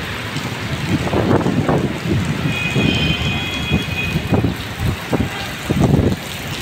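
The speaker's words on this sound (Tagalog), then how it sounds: "Pakalakas ng ulan, no?" Heavy rain pours outside Manila City Hall during Typhoon Carina, a dense steady roar with irregular louder surges and low rumbling gusts, loud and continuous throughout.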